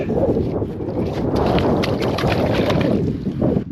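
Strong wind blasts across an open frozen lake during winter ice fishing, a loud continuous buffeting roar with gusty surges against the microphone.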